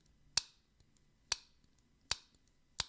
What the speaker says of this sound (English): if I'm doing two-handed opening, the opening sound is gonna be like